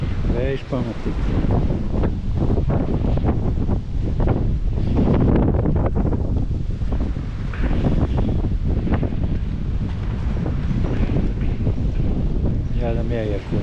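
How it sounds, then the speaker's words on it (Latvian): Strong storm wind roars and buffets the microphone continuously, loud and close, on the coast at Erdemli, Mersin, Turkey, with faint voices partly buried beneath the gusts. "Vējš pamatīgs."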